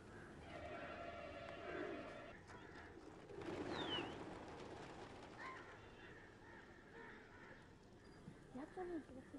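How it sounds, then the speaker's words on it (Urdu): Pigeons nesting in the roof and minarets of Jamia Masjid in Kashmir give soft cooing calls in short bursts amid quiet ambient noise, with a voice speaking under part of it. "یہ کبوتر اپنے گھونسلے مسجد کے چھت اور میناروں میں بناتے رہتے ہیں۔"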